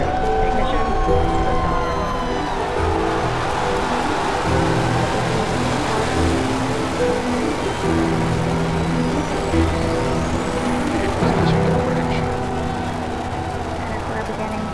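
SpaceX Falcon Heavy rocket engines roar at liftoff, a dense, sustained rumble that fills the whole stretch at constant strength while a commentator talks over it.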